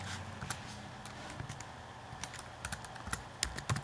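Rapid, uneven clicks from a computer keyboard being typed on during a RuneScape giveaway session, close and moderately quiet, in irregular bursts with short pauses between keystrokes.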